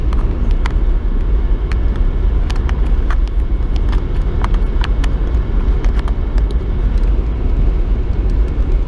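A car being driven, with a loud, steady engine and road rumble from inside the cabin throughout, and light clicks and ticks on top.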